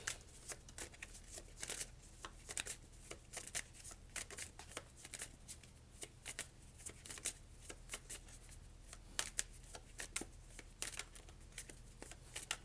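Tarot cards shuffled by hand during a reading, a quiet, steady stream of papery riffling and flicking with frequent crisp snaps at an irregular rhythm, heard close up.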